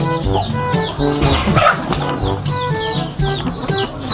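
Rooster clucking and crowing close by amid a busy barnyard of other chickens, with flapping wings and layered calls over steady background sound.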